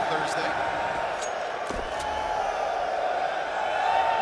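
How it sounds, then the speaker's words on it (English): A large stadium crowd at the Budapest Major esports playoffs keeps up a steady, broad murmur of noise. A few faint thumps and shouts rise out of it, and a voice is heard over the crowd. "This Budapest crowd starting to come alive."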